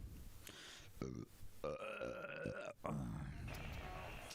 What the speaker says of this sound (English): I like to burp in the mic.